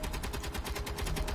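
Rapid automatic gunfire from the video game Space Engineers rattles in quick, evenly spaced bursts at a fairly quiet level, with no speech.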